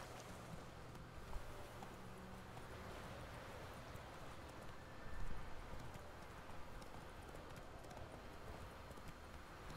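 Horse hooves clip-clop steadily on a road in The Witcher 3 as the horse walks along, over a soft wash of wind and outdoor ambience, with no talking.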